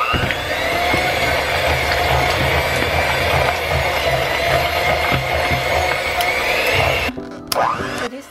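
Electric hand mixer beating cream cheese in a home kitchen, a steady loud whirring drone with a scraping, rattling edge that runs for about seven seconds before cutting off into brief clatter.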